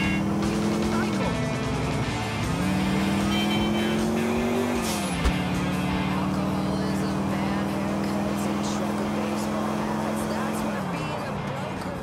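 Sultan RS car driven fast in the video game GTA IV: a loud, close engine drone rising in pitch, dropping at gear shifts, then holding high, with a brief thud midway.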